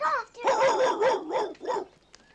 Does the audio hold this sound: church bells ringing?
no